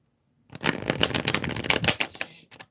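A deck of tarot cards gets a single quick riffle shuffle, a rapid flurry of crisp, close flicking snaps lasting about two seconds, followed by a couple of soft taps as the deck settles.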